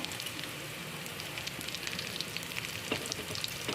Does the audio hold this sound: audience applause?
no